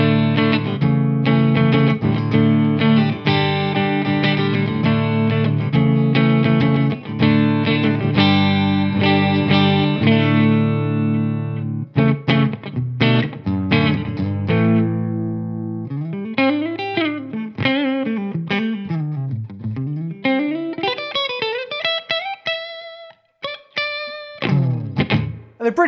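An electric guitar played with clean tones, first sustained strummed chords, then a pause and single-note melodic runs and sliding phrases, loud and close, with no talking.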